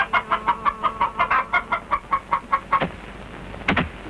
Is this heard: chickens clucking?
yes